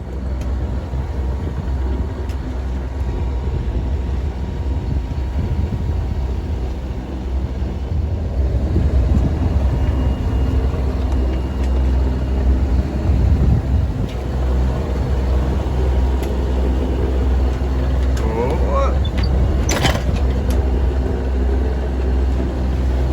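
A sailboat motoring downwind at night under engine power, with a steady low engine drone and water rush running continuously and fairly loud throughout, a brief brighter hiss near the end.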